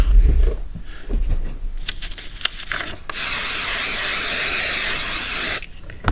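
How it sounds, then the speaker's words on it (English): Quilting spray from a can misted onto fabric while making a chenille sweatshirt, with a few handling taps and rustles, then one steady close hiss lasting about two and a half seconds. "quilting spray"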